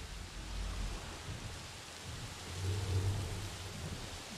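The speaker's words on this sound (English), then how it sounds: "Look how wet you look as well when the rain comes in." Rain falls in a dinosaur park building video game as a steady, fairly quiet hiss of broadband noise that swells slightly toward the end.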